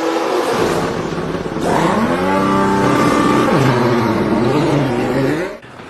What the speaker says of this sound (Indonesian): Begitu mobil balapnya masuk ke pit stop